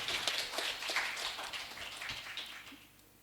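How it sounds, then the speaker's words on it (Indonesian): Hands clapping at a mosque committee work meeting, a dense quick patter of many small claps that stays fairly steady, then thins and fades toward the end. "Tepuk tangan dulu ya."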